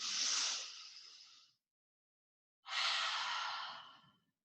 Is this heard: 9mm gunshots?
no